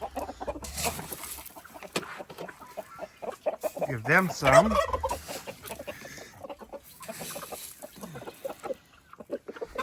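Several chickens cluck and squawk close by, with one rising, warbling call in the middle, while a person speaks briefly.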